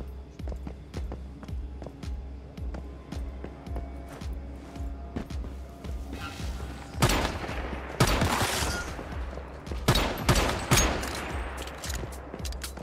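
Gunfire in the post-apocalyptic co-op game Once Human: sharp single shots and rapid volleys, growing denser and louder in the second half, with footsteps in between.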